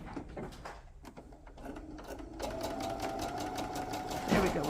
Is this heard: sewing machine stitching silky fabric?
yes